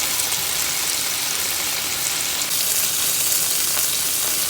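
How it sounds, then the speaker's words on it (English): A steak searing in a hot pan, a loud, steady, close sizzle of hissing and popping fat that holds evenly throughout with no talking. "We're gonna go ahead and sear both sides."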